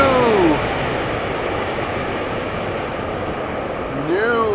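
An airliner rolls out after landing at Amsterdam Schiphol with its thrust reversers only at idle, giving a steady broadband roar throughout, while a whining engine tone sweeps down at the start and rises again near the end.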